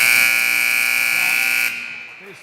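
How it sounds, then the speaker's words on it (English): A basketball game-ending buzzer at a girls' high school game blares loud and sustained, then cuts off abruptly, leaving faint gym noise behind. "Baseline shot by Caitlin Duncan, no good at the buzzer."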